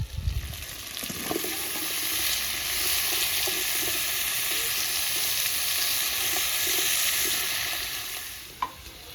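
Pumpkin tossed into sautéed potatoes in a pan, giving a loud, even sizzle that holds steady for several seconds, with soft stirring scrapes and a clunk near the end; no voices.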